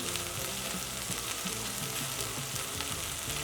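Spices frying in a pot of half-cooked vegetables over a low gas flame: sambar powder, a pinch of cinnamon powder and turmeric. A steady, close, dense sizzle runs throughout with a few stirring scrapes.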